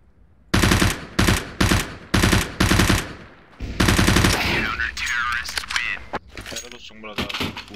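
MP submachine gun firing in PUBG, five or six sharp evenly spaced short bursts, loud and close, followed by a voice talking over faint game sounds.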